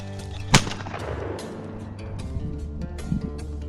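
A single loud shotgun blast outdoors on an upland bird hunt, a sharp crack followed by a rolling echo and a faint second report, with no talk.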